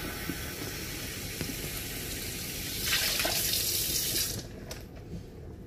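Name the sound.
running water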